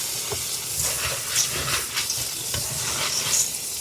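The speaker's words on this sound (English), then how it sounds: "Now we're going to wash them and clean them before we cook them." Dry beans being washed in a strainer, a steady close rush of running water with shifting splashes and a few rattling scrapes as the beans move, no talking.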